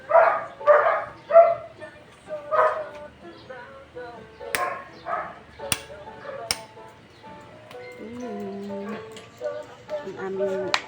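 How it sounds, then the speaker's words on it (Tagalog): A pet dog barks in a string of sharp, close yaps, pausing and resuming, while people talk nearby. "Ang aming cute na aso."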